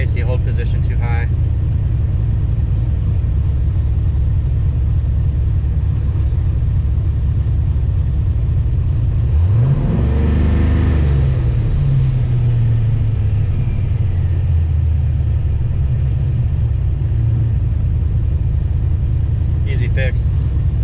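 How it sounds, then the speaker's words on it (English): An LS-swapped Nissan 240SX engine holds a high idle around 2000 RPM, a steady close low rumble whose pitch briefly sweeps and settles midway before droning on evenly. "My foot's off the throttle, just idling at 2000."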